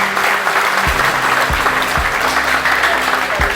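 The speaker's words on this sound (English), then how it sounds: "we want to give them a round of applause right off the bat" An audience at a fishing tournament rules and registration meeting applauds a marine sponsor, steady dense clapping filling the room for a few seconds with a low hum underneath.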